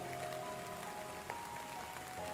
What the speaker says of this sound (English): Through the heavy rain,